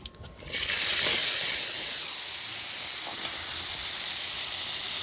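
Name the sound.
onion, garlic, green chili and spices frying in oil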